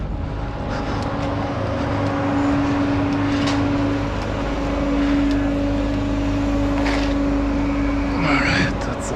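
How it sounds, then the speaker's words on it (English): The tractor unit of a semi truck rolls forward during setup of a videowall trailer, giving a steady, fairly loud engine drone with a sustained humming tone that runs the whole time. "Now I'm going to drive forward with the tractor."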